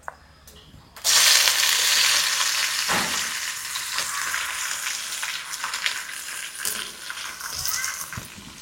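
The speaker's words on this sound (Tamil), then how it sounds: "வெங்காயத்தை போட்டுருவோம்." Onions dropped into hot oil with fennel seeds in a pan, bursting into a loud, steady sizzle after a brief quiet start, with occasional stirring clinks and scrapes close by and no talk.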